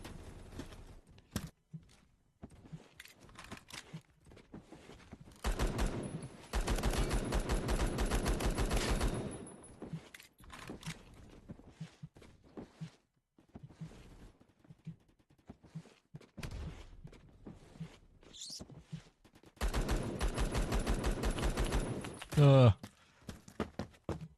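Rapid bursts of automatic gunfire in the video game Phantom Forces, with two sustained volleys and scattered single shots amid quieter game sounds, a player talking between them.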